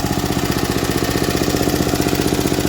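The engine of a vintage MTD ride-on mower runs close and loud at a steady, fast beat, with rapid mechanical clacking from the lifters and tappets riding on each pulse; nobody speaks.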